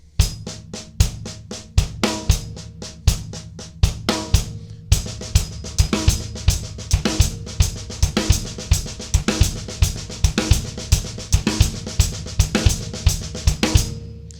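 A drum kit plays a steady sixteenth-note groove with an accented snare on the backbeat. The hits are crisp and close and repeat evenly for the whole stretch, with no voice over them.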